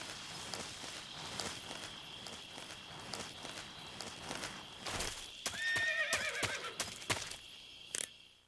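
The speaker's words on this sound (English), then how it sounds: "I know a horse when I hear one." A horse whinnies loudly toward the end, with hooves clip-clopping in a steady walking rhythm before it, against a low background hum, in the video game Metal Gear Solid 3.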